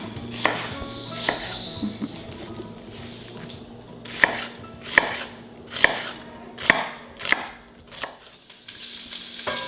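A knife cuts vegetables into semicircles on a cutting board, about nine distinct, evenly spaced chops over a faint kitchen hum, close and fairly loud, with no talking.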